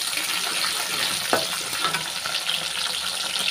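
Small onions frying with mustard seeds in hot oil, a continuous close crackling sizzle with a sharp spatter or scrape near the middle.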